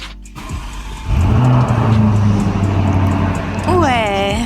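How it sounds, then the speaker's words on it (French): A car engine starts up and idles low and steady right beside the microphone, with a door opened slightly and a voice sliding up near the end. "ça, c'est ma voiture"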